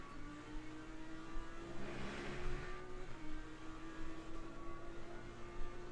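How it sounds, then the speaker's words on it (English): Lamborghini Huracan GT3 engine in a Le Mans sim racing game, a faint steady drone with a brief rising whoosh near the middle as the car sweeps through the Dunlop curve. "around the Dunlop curve, over the apex we go, just holding on to this Lamborghini Huracan"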